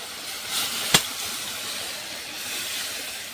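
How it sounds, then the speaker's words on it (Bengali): Steaming hot curry poured over fried prawns in a pan, giving a steady sizzling hiss with one sharp clink of utensil against metal partway through. "চল এবারে তরকারিটা ঢেলে দেবো"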